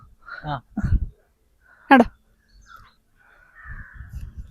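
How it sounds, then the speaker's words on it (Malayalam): A crow caws outdoors in a few loud, harsh calls separated by short pauses. The calls sound close. "കാക്ക"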